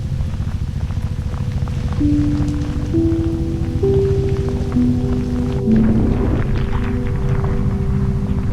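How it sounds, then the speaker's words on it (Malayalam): Heavy monsoon rain pours steadily on a hill road at Vagamon, a dense constant hiss and patter, loud and close, with a faint tonal hum running through it and no talk. "മൊത്തം നല്ല മഴയാണ് കേട്ടോ"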